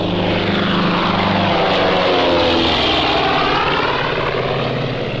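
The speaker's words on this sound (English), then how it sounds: "The plane to Lisbon." A propeller airplane, the plane bound for Lisbon, drones loud and steady overhead, its engine tone rising and shifting as it passes, filling the whole clip with no voices.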